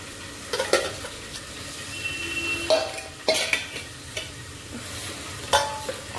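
Food fries steadily in a pan with a continuous sizzle, while a spoon stirs and scrapes against the metal several times and gives a few sharp clinks. There is no talking.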